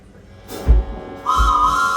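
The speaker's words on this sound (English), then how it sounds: "this song starts with a lovely train whistle" A train whistle is blown at the start of a song at a live band gig in a Sheffield hotel, one short low toot followed by a sustained, louder whistle tone close to the microphone.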